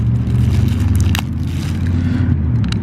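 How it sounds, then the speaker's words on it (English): A giant garbage truck idling outside, a loud continuous low engine rumble with intermittent clanks and scraping noises from the vehicle, no voices. "We also have a giant trash truck."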